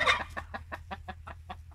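Chickens and a rooster in a henhouse cluck in a quick series of short, fairly faint calls, starting with a louder squawk.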